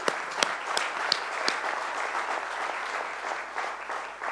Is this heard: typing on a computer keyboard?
no